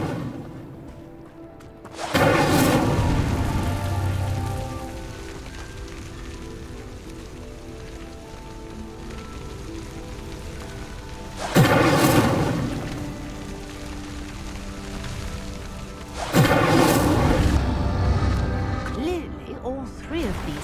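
Three loud fiery bursts from the Incendio spell in Hogwarts Legacy flare up as pyres are lit, each a crackling whoosh spaced several seconds apart over a dense game soundscape.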